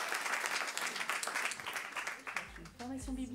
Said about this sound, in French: un tonnerre d'applaudissements pour honorer Paloma